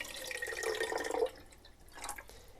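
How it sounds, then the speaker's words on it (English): FX55 film developer poured into a developing tank, a soft steady liquid stream lasting over a second that stops, followed by a faint later trickle, quiet and close with no voices. "I get my 500 milliliters of FX55 full strength and pour it in."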